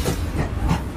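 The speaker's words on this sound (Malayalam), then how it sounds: "എന്റെ ബാക്കിൽ കൂടി ട്രെയിനിൽ പോകുന്നു" A passing train rumbles steadily close by, a continuous broadband roar with faint rhythmic clatter from the rail cars and no talk.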